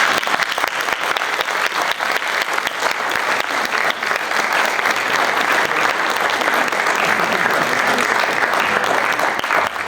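Sustained, loud audience applause for an independent filmmaking panel at Denver Comic Con, a thick even roar of many hands clapping for about ten seconds.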